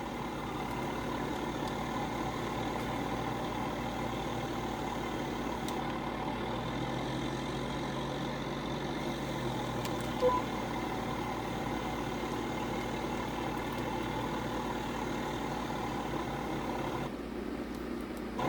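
An old 1990s tractor engine runs steadily while spraying, a continuous low mechanical drone with a faint hum layered on top, holding at an even level throughout with a brief dip near the end.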